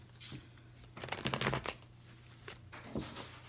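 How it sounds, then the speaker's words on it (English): Tarot cards being shuffled by hand, soft papery riffles and slides in a couple of quick bursts, quiet and close with no talking. "So I just want to shuffle the cards and let's see what's going on."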